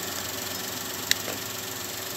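A three-cylinder engine in a 2017 Suzuki Celerio idles with a steady low rumble and slight shaking, plus one brief click partway through.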